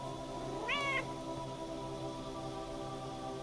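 A house cat gives a single short meow near the start, close and clear, over a steady low background hiss, with no talking.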